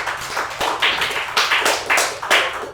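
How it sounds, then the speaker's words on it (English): Small crowd clapping for a presenter named Jerry at a crypto DAO demo showcase in Toronto, a loose run of hand claps with uneven rhythm, fairly close and steady, with no voices over it. "Round of applause for Jerry"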